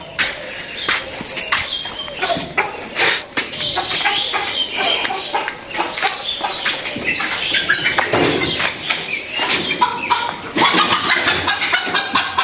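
Chickens in a village coop cluck and flap their wings in repeated bursts, close by and fairly loud, with a faint voice now and then in the background.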